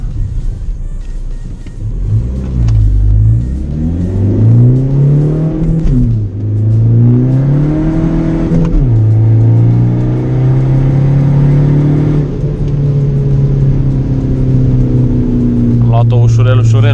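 Skoda Fabia 1.9 TDI stage 2 accelerating hard through the gears, the engine note rising steadily then dropping at each shift, loud and close, with a brief whir near the end.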